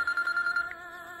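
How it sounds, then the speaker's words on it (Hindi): A telephone rings in a dubbed action film scene, repeating short bright electronic chirps close by for about half the moment before a quiet tail, with no talk over it. "अरे फिर से टकलू का फोन है"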